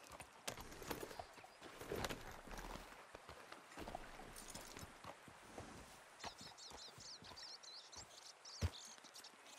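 A horse gallops in Red Dead Redemption 2, with quiet, irregular hoof clops and some rustling, faint and distant throughout, plus light chirping near the end.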